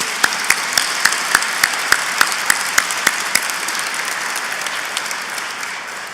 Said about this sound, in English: So let's give them a great big round of applause.